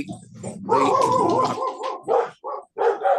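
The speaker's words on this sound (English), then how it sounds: "excuse me while my dogs eat somebody at the door" Several dogs bark loudly and excitedly at someone at the door, a burst of overlapping barks and yips followed by a few short separate barks.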